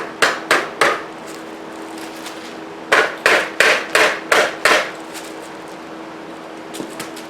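Hammer tapping a part into the rear suspension of a snowmobile during a hyfax slider and spring sag repair: a quick burst of three sharp metallic taps, a pause, then a steadier run of five close, loud taps, with a faint hum underneath.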